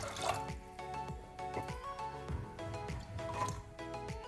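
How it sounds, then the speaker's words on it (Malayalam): A cup of water poured into a pressure cooker holding soaked cowpeas and salt, heard as soft, steady splashing and dripping, fairly close. "ഇതിലേക്ക് 1 കപ്പ് വെള്ളം കൂടി ഒഴിച്ചു കൊടുക്കാം."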